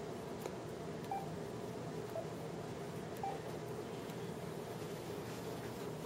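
Phone keypad tapped while sending a simple text message to lock down a ThinkPad, three short faint beeps spaced about a second apart over a steady background hiss.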